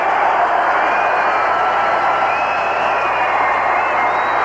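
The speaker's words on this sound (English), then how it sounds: "Crowd's getting into it." Football stadium crowd at a 1985 NFL game between the Eagles and Vikings, a steady roar of cheering and noise filling the whole stretch, swelling slightly on third down and 8.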